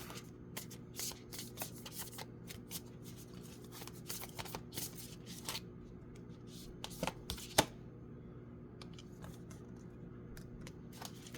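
Oracle cards being shuffled by hand, a steady run of soft riffling and flicking bursts, close and quiet, with no talking.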